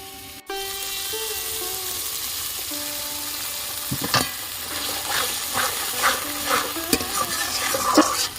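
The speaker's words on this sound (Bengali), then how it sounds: "এবার মশলাটাকে আরেকটু কষিয়ে নেব।" Masala mixed with curd and sugar stir-fried in a pan for Katla macher kalia, spoon scraping and clacking against the pan in irregular strokes over a soft sizzle, with a faint tonal hum in the background.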